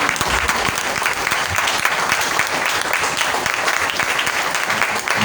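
Church congregation applauding together during a worship service, a dense, steady wash of clapping that holds loud and even throughout with no pauses.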